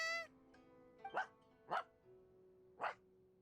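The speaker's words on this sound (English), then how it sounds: "No, that sounded like a dog." A dog in the Genshin Impact video game gives three or four short, sharp barks spaced about half a second to a second apart, moderately loud over a faint background hum.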